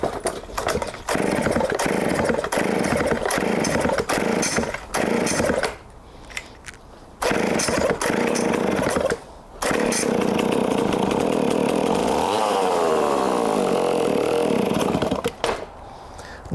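A vintage Remington PL-4 chainsaw is pull-started outdoors with the choke on, giving rapid cord pulls and sputtering catches, then running loud and ragged with revs rising and dropping, broken by brief quiet gaps.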